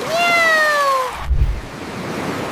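A cat gives one long, loud, close meow on a beach. A short thump follows, with faint surf and wind behind it.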